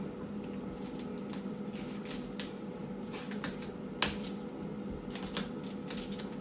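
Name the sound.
peeling leaves off a cauliflower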